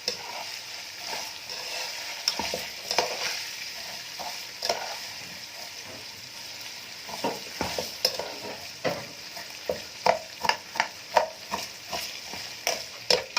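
Lentil soup with vermicelli and ghee being stirred in a pot, a steady scraping swish with soft sizzling underneath, growing into rhythmic clinks and scrapes in the second half, close and fairly quiet.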